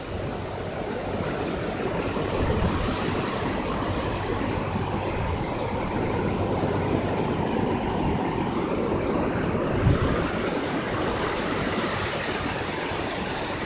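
Ocean waves pushing onto the shore, a steady broad wash of surf that rolls on continuously without breaks, heard alone with no voices.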